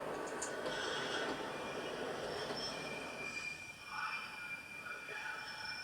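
Model railway train sounds played back from an MP3, a sustained high metallic wheel squeal with rail rumble, steady and moderately loud, fading slightly partway, no talk.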